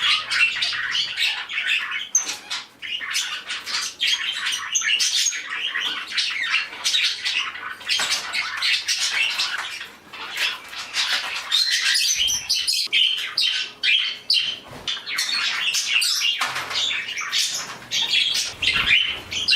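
A room of pet parakeets and finches fills with dense, overlapping chirps, tweets and occasional squawks, continuous and close with brief flutters, and no talking.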